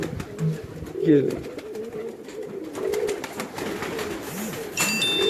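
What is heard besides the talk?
pigeons cooing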